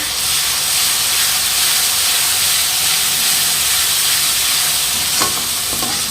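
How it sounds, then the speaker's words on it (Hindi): Cumin, garlic and mustard masala frying in a pan, a steady close sizzle and hiss with faint stirring scrapes near the end, no voices. "यहाँ हमारे जीरा, लहसुन, सरसों के मसाले को ऐड करके अच्छी तरीके से भुनाई कर देना है।"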